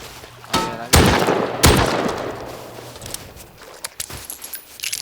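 Gunfire in the survival game Rust comes as several sharp, loud shots near the start, with lighter clicks and rattles following. Faint talk sits underneath.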